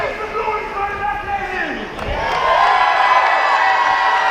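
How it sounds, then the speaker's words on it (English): Crowd at an independent wrestling event in Burton, Ohio cheering and whooping during a tag team match, loud and sustained, swelling in the second half with a commentator talking over it. "Listen to that crowd."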